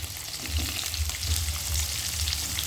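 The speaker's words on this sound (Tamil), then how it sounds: "இப்படியே பொரியட்டும்" Onion and green chili frying in oil for idiyappam kothu, giving a dense, continuous close sizzle with light crackling and no talk.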